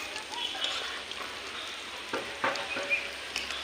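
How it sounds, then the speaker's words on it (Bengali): Ripe mango fritters frying in oil and being turned over: a soft, continuous sizzle with a few faint scrapes and taps as they are flipped, close and quiet. "এক পাশ আমার ভাজা হয়ে গেছে আর এক পাশ আমি উল্টে দেবো"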